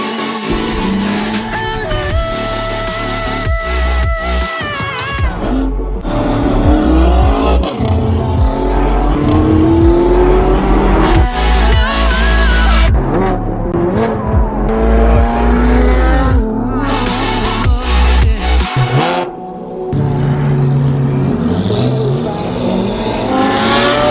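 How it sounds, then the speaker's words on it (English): A Ferrari 458 engine revs and accelerates repeatedly, roaring loudly up through the gears with shifting pitch, with occasional voices mixed in. "We got Avery driving the 458."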